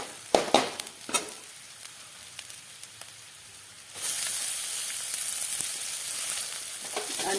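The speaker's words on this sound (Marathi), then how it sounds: "तर आता यामध्ये आता आपण भाजी घालूया." Dill greens drop into hot oil with fried lentils and burst into a loud, steady sizzle that holds to the end, after a few soft clinks and stirs at the pan.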